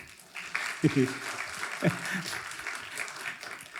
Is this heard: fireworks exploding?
no